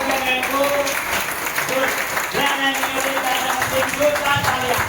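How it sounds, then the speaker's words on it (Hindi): An audience at a grand celebration event applauds steadily throughout, with a busy crowd wash of clapping under a speaker's amplified voice and background music. "मैं चाहूंगा एक जोरदार तालियों के साथ में"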